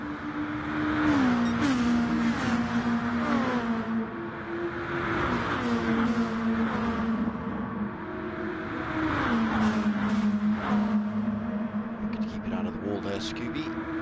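Gr2 race cars circulate at Tokyo East Outer Loop in a racing video game, their engines droning and climbing through repeated gear shifts, with a commentator talking over them throughout.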